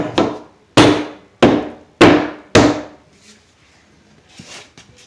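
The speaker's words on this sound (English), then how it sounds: "you use the outer edge of that hammer" Five loud, sharp hammer blows on drywall land at an even pace, each ringing briefly, followed by quieter scuffs and taps.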